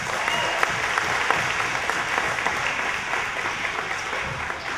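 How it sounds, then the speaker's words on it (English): A school audience at a Pioneer Day program applauds a group of kids with steady, dense clapping that fills the whole stretch without a break. "they deserve a big round of applause"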